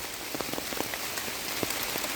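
Steady rain falls on a surface outdoors while mushrooms are gathered, a dense, even hiss broken by sharp individual drop hits. It is close and continuous, with no voices.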